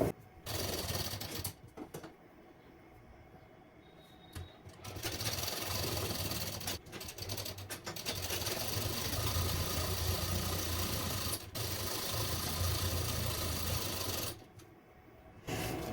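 A sewing machine stitches a strip for a princess-cut blouse, running in long steady whirring bursts close by, separated by short pauses.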